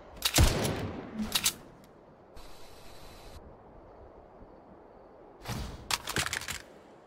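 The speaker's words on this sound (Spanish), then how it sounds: "¿Por qué están tirando tiros?" Several sharp bursts of Fortnite gunfire, a few shots near the start and a rapid cluster near the end, with a steady hiss between.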